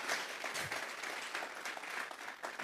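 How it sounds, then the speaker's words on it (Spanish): Congregation at a church sermon clapping steadily and continuously, a dense, fairly distant wash of many hands without a break. "Dele fuerte esas palmas al Dios de la gloria."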